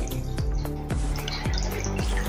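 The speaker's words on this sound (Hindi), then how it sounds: "अभी हम पानी डाल रहे हैं इसमें।" Water pours into a pan of cooking spinach and small onions, giving a steady wet splashing with a run of repeated falling, drip-like gurgles, close and fairly loud.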